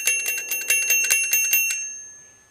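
An old TOMY TrackMaster toy railway bell crossing rings in a quick series of about a dozen bright metallic dings, close and clear, then the last ring fades away.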